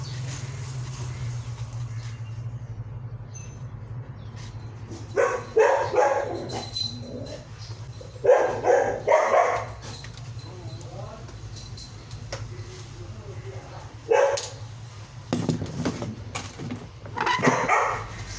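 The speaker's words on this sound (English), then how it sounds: "that was my dog barking" A pet dog barks in several short bursts of yips and woofs, fairly close, over a steady low indoor hum, with quieter gaps between the outbursts.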